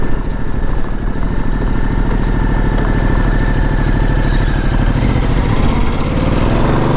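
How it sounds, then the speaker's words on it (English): A Ducati Multistrada Enduro motorcycle engine drones steadily and loudly while riding an offroad trail in enduro mode, a close, continuous throbbing rumble with no pauses. "the multi-strada enduro in the enduro mode is an amazing machine to have fun with"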